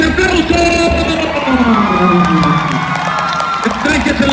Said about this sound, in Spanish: ¡El aplauso bonito del público, señores!